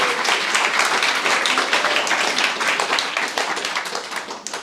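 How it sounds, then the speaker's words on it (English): A crowd applauds Gia at a Startup Weekend pitch night in Perth, with loud, dense clapping sustained for several seconds and thinning slightly toward the end. "Applause for Gia."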